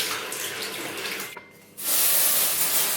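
Shower water gushes from a tap in a bathroom, a loud steady hiss that cuts out briefly and then returns fuller and brighter.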